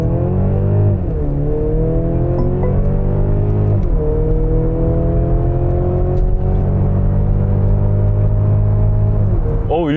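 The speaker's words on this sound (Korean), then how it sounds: "저는 한번 스포츠 모드에 두고 이 엔진의 실력을 한번 테스트 해보도록 하겠습니다." A Mercedes-Benz GLC 300 4MATIC in sport mode pulls hard under acceleration, its engine note rising steadily through the gears with brief dips at each shift, loud and continuous from start to finish.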